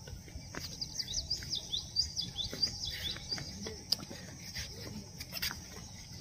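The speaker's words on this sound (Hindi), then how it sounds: "सिर्फ चिड़ियाओं की चहचहाट सुनाई देती है ना" Birds chirp and tweet in a jungle, with scattered short calls rising over a steady low rumble of outdoor background noise, fairly faint and moderately distant, with no talking.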